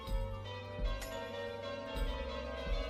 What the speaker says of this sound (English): Somebody taught me that you could, you can play the bell tune.